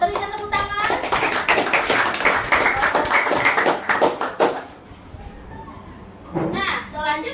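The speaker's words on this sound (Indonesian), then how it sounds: "Oke, jawaban yang bagus, berikan tepuk tangan." Classroom children clapping for a good answer, a lively burst of many small hands with chatter, stopping abruptly before the teacher speaks again.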